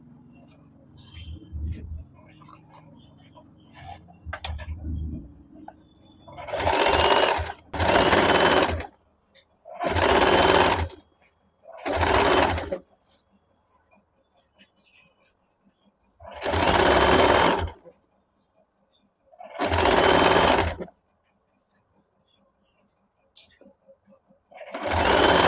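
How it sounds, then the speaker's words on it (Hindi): Sewing machine stitching a suit collar in bursts of rapid mechanical whirring, about seven close, loud runs of a second or two each, separated by pauses where someone talks quietly. "तो मैं ये सिल के दिखा देती हूँ, और इसी प्रकार से हम लोग दूसरे साइड वाला भी सिलाई कर लेंगे।"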